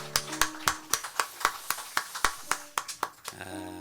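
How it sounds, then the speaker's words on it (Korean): Church congregation at a founding anniversary service clapping in a strong, even rhythm, about a dozen sharp unison claps, with a sustained tone entering at the end. "우리 주님께 큰 영광의 박수 다시 한번 올려드리겠습니다"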